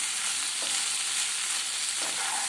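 Taro root fry sizzles steadily in a pan as a spoon stirs through it, two soft scraping strokes standing out over a constant close hiss with no talking.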